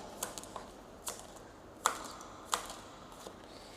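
Tarot cards handled and shuffled in a quiet room: a few sharp, separate taps and flicks spaced unevenly over a few seconds, fairly soft and close, with no voices.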